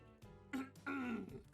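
A character coughs in the video game Hooked on You: a short, fairly quiet throat-clearing cough in two bursts over a faint steady background tone.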